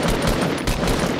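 Gunfire in Fortnite rattles out in rapid bursts, a loud run of close shots tumbling over one another for a moment with no speech.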